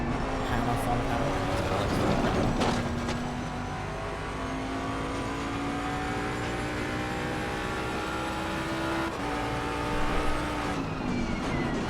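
A GT race car in Assetto Corsa Competizione runs at speed, its engine droning steadily with rising and shifting tones through gear changes, loud and continuous, with talk over it.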